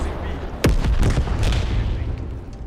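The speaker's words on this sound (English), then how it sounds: "Let me shoot this man." A gunshot from Call of Duty: Black Ops Cold War cracks out sharply with a booming tail, followed by a couple of quieter shots and rumbling game noise under a busy background.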